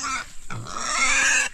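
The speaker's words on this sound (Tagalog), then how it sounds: "Ayan na naman ang makulit na kambing" Goat bleating, a loud, close, wavering cry with a brief break partway through before trailing off, alone without talk.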